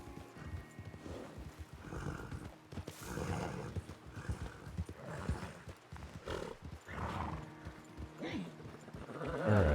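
Horses in the Western video game Red Dead WildRP, with hoofbeats clip-clopping at a trot and a whinny rising over a busy mix, moderately loud, with no clear talk.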